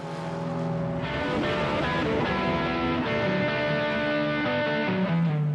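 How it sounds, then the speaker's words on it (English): A car drives past, its steady engine drone shifting in pitch as it approaches and moves away. The drone stays loud and close throughout. "at the front of a moving car, sound waves are compressed, while at the back, they're stretched out"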